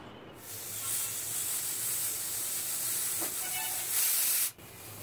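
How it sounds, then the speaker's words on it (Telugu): Pressure cooker hissing steam while mutton curry cooks, a steady loud broadband hiss running several seconds then cutting off sharply near the end, heard alone. "కుక్కర్ మూత పెట్టుకుని 2 to 3 విజిల్స్ వచ్చే వరకు ఉడికించుకోవాలి"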